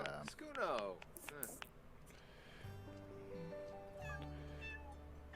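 A cat meows a few times early on, close and fairly clear, with people talking at a low level and a steady hum of background noise filling the rest.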